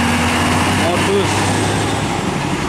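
Hino 500 tractor unit pulling an ISO tank trailer loaded with LPG: a loud, steady diesel engine drone with a low hum, continuous throughout, while a voice talks over it.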